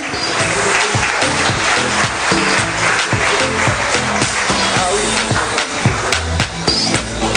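At the Guadeloupe sports trophies ceremony, the crowd loudly applauds an award recipient's father as he collects the prize, thick continuous clapping over a steady pulsing musical backing.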